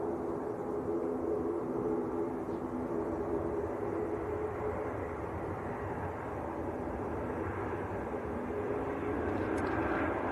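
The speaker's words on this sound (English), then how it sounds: "Airbus A320." EasyJet Airbus A320 airliner from Amsterdam near Manchester Airport, a distant, steady jet engine roar that holds a low even drone and swells slightly toward the end, with no talk.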